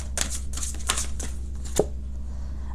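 Tarot cards being shuffled for a cross spread, a few short papery riffling bursts close by, ending with a single sharper tap, with no talk over them.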